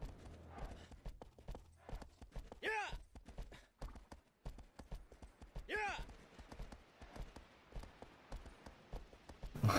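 A horse gallops in Shadow of the Colossus with rapid, rhythmic hoofbeats close by and fairly quiet, and a couple of breathy snorts rise above the steady clip-clop while a voice talks over it.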